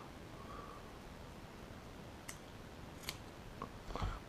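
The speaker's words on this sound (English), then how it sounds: "I'm going to cut a bit more off." Scissors snip through cotton wick while a 0.28 ohm conductor coil is prepared for a vape: a few sharp, close, quiet cuts, spaced irregularly over a soft background hiss.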